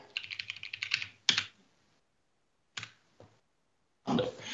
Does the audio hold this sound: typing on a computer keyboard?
yes